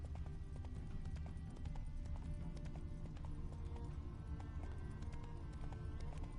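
Roach's hooves galloping in The Witcher 3, a fast continuous clip-clop of a horse at full run, loud and close, with no talk over it.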